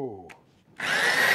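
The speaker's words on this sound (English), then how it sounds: "I'll try to put the drill in and clean it out from the welding." A voice speaks briefly, then a high-pitched power drill whirs loudly and steadily, grinding against metal as it cleans out a weld.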